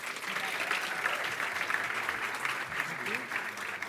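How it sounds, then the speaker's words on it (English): Steady audience applause fills a university honors program convocation hall, a dense, even wash of many hands clapping at moderate distance, sustained without pause for the whole stretch. "So you all owe him a round of applause."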